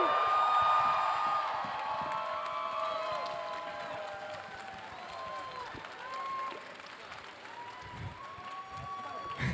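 Concert audience at an anime music event applauding and cheering, a broad steady wash of clapping and scattered whoops heard from within the crowd, moderately faint and sustained.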